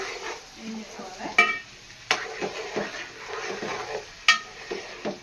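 Ginger garlic paste stirred in a hot cooking pan, soft scraping and sizzling broken by a few sharp clinks of a spoon against the metal, with quiet background sounds.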